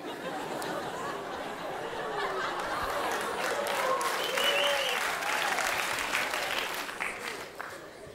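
Audience applause at Jamel Debbouze's 1999 stand-up comedy show, a broad, moderately distant wash of clapping mixed with laughter and crowd chatter, swelling in the middle and thinning out at the end.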